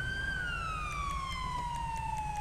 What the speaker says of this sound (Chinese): 警笛关啊！